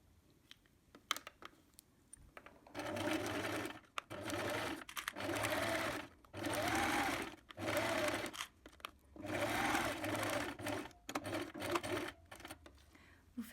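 Domestic sewing machine running a straight stitch on fabric pieces for a large tote bag, set to tension 3, width 3, length 3 with a size 70 universal needle; several close bursts of steady mechanical whirring separated by short pauses.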